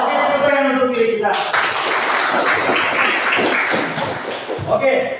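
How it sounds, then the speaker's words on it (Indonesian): A group at a short-distance running session claps for themselves, a dense burst of applause that rises after a spoken line and carries on loudly, with voices heard at the start and end. "tepuk tangan untuk diri kita"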